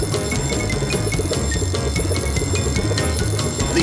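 A cartoon bell rings continuously under busy music, with steady repeated metallic strikes throughout.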